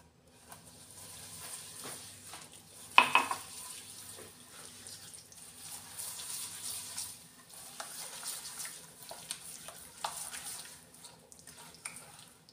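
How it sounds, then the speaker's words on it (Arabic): Sugar, oil and almonds being stirred together in a bowl, a soft continuous scraping and swishing with one sharp clink near the start, close and steady, with no talking. "واستمر في التخليط."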